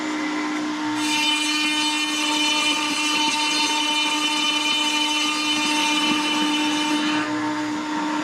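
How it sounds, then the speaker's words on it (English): A router bit spins up and bores through a plate into a wooden cutting board, a loud steady high-pitched whine holding for several seconds before winding down. "I need to get my router bit to come through the plate"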